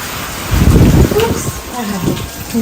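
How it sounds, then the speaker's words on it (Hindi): Very heavy rain and storm wind in Islamabad make a loud, continuous roar close to the microphone, with a stronger gust-like surge partway through. "आज फिर दोबारा से इस्लामाबाद में बहुत तेज़ बारिश और आंधी और तूफ़ान है।"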